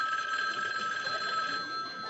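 A telephone rings with a steady, continuous bell tone, moderately loud and alone, with no voices over it.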